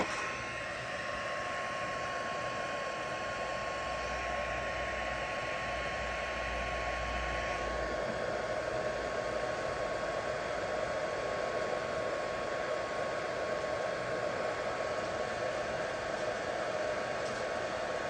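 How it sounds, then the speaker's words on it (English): Heat gun blowing steadily to melt embossing powder in a card-stamping setup, a continuous close whooshing hum with a faint whine that shifts slightly partway through. "I will just heat up my heat gun for a second."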